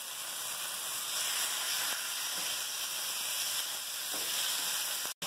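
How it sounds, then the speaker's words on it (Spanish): Chicken pieces fry in a pan with a dense, steady sizzle and hiss that runs alone throughout, cut off by a brief click near the end. "y las vamos a ir friendo hasta que estén doraditas, bien doraditas"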